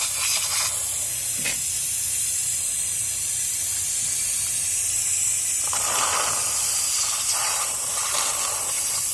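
A Holt pneumatic brake bleeder from Harbor Freight hisses steadily and loudly at close range, with brief surges of stronger air noise near the start and again toward the end.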